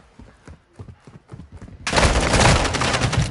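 Light rhythmic tapping shots open the clip, then a sudden loud, dense barrage of rapid gunfire from a shooter video game bursts in and keeps going close up.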